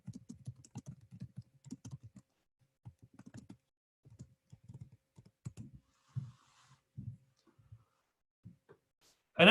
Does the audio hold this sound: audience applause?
no